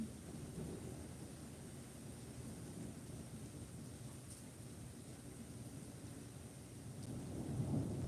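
Rain falls outside with a steady low rumble, faint and continuous, swelling slightly toward the end.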